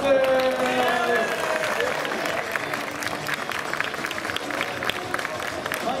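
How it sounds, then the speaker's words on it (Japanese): Audience applause welcoming guests onto a stage at a baseball-themed event, steady dense clapping that fills the whole stretch, with a voice speaking briefly at the start. "拍手でお迎えください。"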